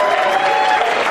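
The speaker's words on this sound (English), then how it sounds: "While you're applauding, let's give it up for Dusty" Wedding guests applauding the couple at a reception, a steady, close burst of clapping filling the short moment with no pause.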